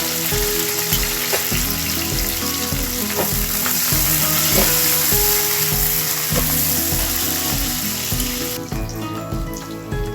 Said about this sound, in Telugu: ఇవన్నీ వేసి వేయించుకుందాం.